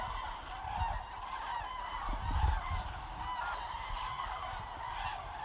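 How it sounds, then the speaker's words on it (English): Distant honking calls from a flock of cranes flying north overhead, repeated in loose bursts above a soft background hiss. "That noise, I don't know if your camera's picking up, the cranes are going back north."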